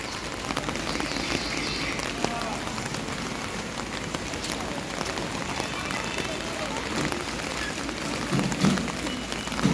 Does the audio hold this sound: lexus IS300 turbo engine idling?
no